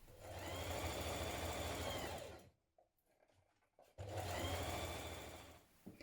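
A sewing machine stitching two trouser legs together along a curved seam, running in a loud, close, steady whir for about two seconds, pausing briefly with quiet handling, then whirring again before easing off.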